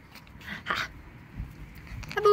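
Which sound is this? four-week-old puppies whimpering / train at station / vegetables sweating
four-week-old puppies whimpering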